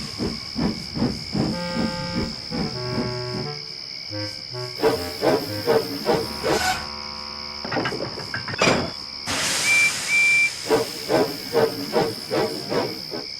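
Steam locomotives working slowly through thick fog, with rhythmic chuffing beats over a constant high hiss and a short whistle-like tone near the end, heard with no talking.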